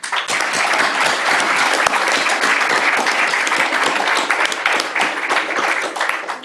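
A school board meeting audience gives a basketball coach sustained, loud applause, with dense clapping filling the room steadily from start to finish.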